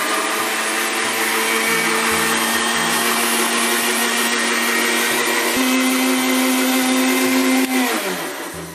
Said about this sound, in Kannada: ಸೊ ಈ ಮಿಲ್ಕ್ ಶೇಕ್ ನ ಮಾಮೂಲಿ ಮಿಕ್ಸಿಲೂ ಸಹ ಮಾಡ್ಕೋಬಹುದು